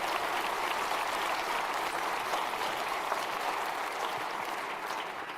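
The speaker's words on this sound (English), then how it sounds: "Can we have another round of applause for free Jira work management and Jira product discovery?" Sustained applause from a large conference audience at an Atlassian presentation, steady and dense throughout, with a faint voice briefly underneath.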